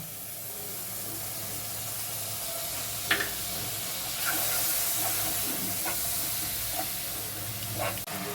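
Cumin, ginger and chilli paste sizzles in a pan with salt, turmeric and tomato for a Bengali chital fish curry, a steady hiss with a few sharp clicks and light stirring scrapes.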